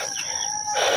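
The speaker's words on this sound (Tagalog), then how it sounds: "Dala-dala ko yung ano pangalay na manok." A rooster crows once, close and fairly clear, a brief bright call with no other sounds around it.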